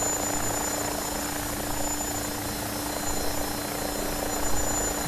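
An AgustaWestland AW109SP helicopter on a rolling landing approach, its rotor and turbine drone loud and steady throughout, close by with no talk.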